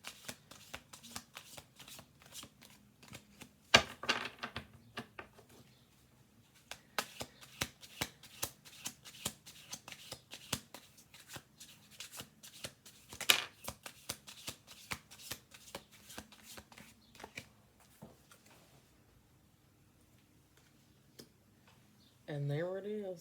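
Oracle cards are shuffled by hand in rapid papery riffles and flicks that come in bursts with short pauses, close and fairly quiet, and a brief voice comes in at the very end.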